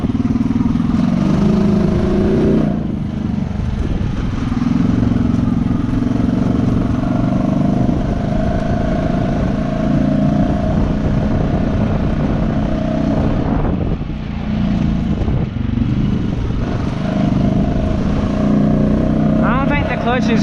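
An ATV engine on 32-inch Aztex tires roars steadily through mud, holding a loud, continuous drone close by with small dips in revving, and no voices over it.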